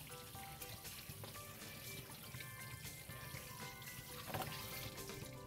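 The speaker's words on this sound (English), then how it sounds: "Just going to rinse our bones." Chicken bones are rinsed under cold running tap water, a quiet steady splashing stream with light clinks, heard alone and fairly close throughout.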